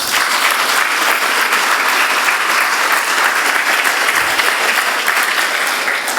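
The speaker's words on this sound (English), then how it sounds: "I think you also deserve a round of applause." Sustained audience applause at a school prize giving ceremony for Founder's Day celebrations, steady and loud clapping from a large crowd throughout with no break.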